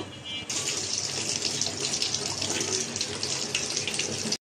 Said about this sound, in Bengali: আমি শুটকি ধুয়ে নেব।